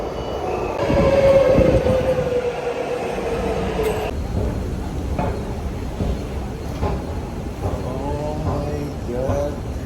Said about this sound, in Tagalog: there's the MRT station.